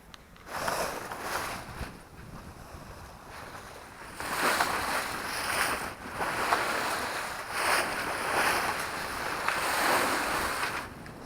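Water rushes and splashes steadily past the hull of a sailboat running under its motor in a light wind of about 4 knots, with gusty wind buffeting throughout and louder surges in the second half.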